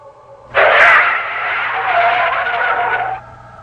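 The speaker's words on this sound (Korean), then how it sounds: "운전을 하고 있던 트럭 기사가 갑자기 소리를 지르더니 급 브레이크를 밟았다" A truck's tires skid under sudden hard braking as a radio-drama effect, one loud, sharp screech that starts abruptly and holds for nearly three seconds before cutting off.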